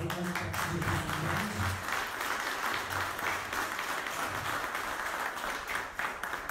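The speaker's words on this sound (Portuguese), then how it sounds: "E eu gostaria de uma salva de palmas aí para a gente." Audience applause at the launch event for the 54th Folklore Festival of Olímpia, a steady, dense round of clapping from a crowd that carries on evenly for several seconds, fairly close and loud.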